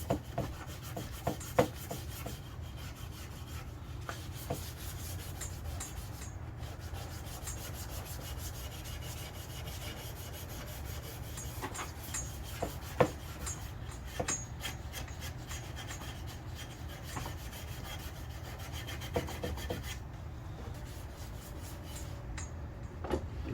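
Hand sanding of grain filler on oak cabinets, a quiet, steady rasping rub that carries on evenly throughout, with occasional light taps and no voices.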